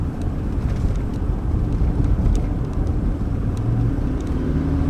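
A Toyota Land Cruiser Prado 150 rounds a corner on the road, its low engine and road rumble steady and close, with wind buffeting the microphone throughout.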